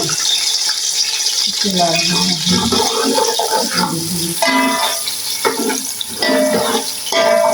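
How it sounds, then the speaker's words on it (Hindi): Onions dropped into hot oil in a pot for yakhni pulao, sizzling and frying loudly and steadily while someone talks over it. "देखिए ऑयल गर्म हो गया, तो इसमें मैं डालूंगी प्याज"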